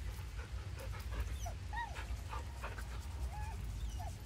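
A dog in Baldur's Gate 3 whimpers and yips in short, rising whines scattered over a steady low game ambience, moderately close with no talk.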